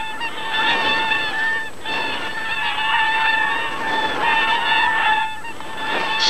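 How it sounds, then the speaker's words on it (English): Wild swans honking repeatedly in a steady chorus of nasal, overlapping calls, close and fairly loud, with no voices over them. "It was the wild swans."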